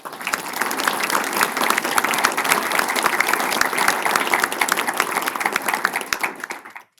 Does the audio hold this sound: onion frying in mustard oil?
no